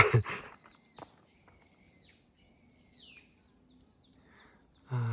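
A brown-eared bulbul calls outdoors on an April hike: several loud, whiny, descending high-pitched notes in separate phrases with pauses between, fairly close, with a soft rustle at the start and end.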